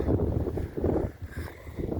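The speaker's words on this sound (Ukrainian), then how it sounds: "Ой, вітер тут у нас" Steady wind buffeting a microphone outdoors over a burnt field, a low rumbling roar that swells and eases in gusts.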